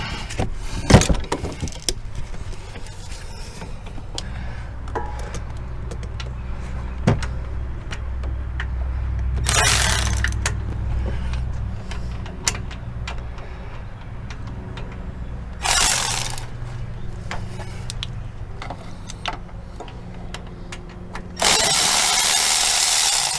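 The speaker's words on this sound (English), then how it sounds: "If we can break it loose, we can spin it loose with the electric ratchet." An electric ratchet spins out a loosened transmission bolt on a Mazda 3 during transmission removal, giving several short whirring bursts and scattered metallic clicks and clanks over quiet workshop background, with no talking.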